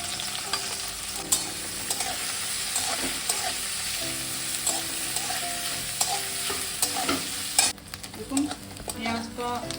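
Three medium onions frying in white oil in a wok, a steady loud sizzle with constant stirring scrapes and clatters of the spoon, a sharper knock near the end.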